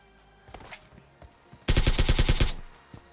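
Automatic gunfire in a shooter video game fights over a hilltop, opening with a few scattered shots before a loud, close burst of rapid fire and a single later shot.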